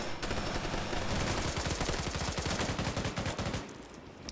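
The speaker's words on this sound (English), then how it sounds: "That's an FN mag." FN MAG general-purpose machine gun firing in an Arma PvP multiplayer match: a loud, sustained automatic burst of rapid, evenly spaced shots lasting several seconds before tapering off, with no talk over it.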